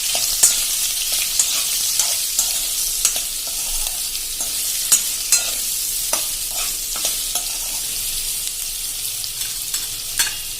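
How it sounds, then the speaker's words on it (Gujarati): Bottle gourd sambharo with chillies being mixed in a pan, a spoon scraping and clicking repeatedly over a steady, close hiss of frying, with no talking. "હવે આ બધું આપણે મિક્સ કરી લેશું."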